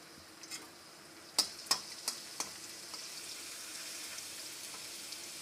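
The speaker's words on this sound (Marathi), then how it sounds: "या लसणाला लालसर होईपर्यंत त्याला असं फ्राय करून घ्यायचं तेलामध्ये।" Garlic frying in oil in a pan for spicy pasta, a steady soft sizzling hiss with a few sharp crackles and pops early on, then an even, continuous fizz.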